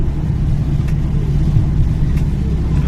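A road vehicle's engine hums steadily on a hill road through clouds, a continuous low rumble close by with no break and no talk.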